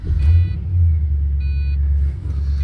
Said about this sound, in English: I'm gonna turn on the car.